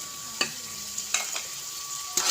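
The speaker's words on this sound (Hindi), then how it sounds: "चलें साथ इसमें हम टमाटर ऐड कर देते हैं" Tomatoes going into a hot pan, a faint low sizzle broken by a few sharp clinks and scrapes of a spoon stirring, quiet and close with no voices.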